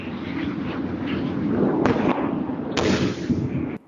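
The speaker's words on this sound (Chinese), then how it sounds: "as you can continue to hear that artillery firing into southern Lebanon" Israeli artillery firing into southern Lebanon at night during a ground offensive: a continuous, heavy rumble of distant blasts, with two sharper, louder bursts and no voices.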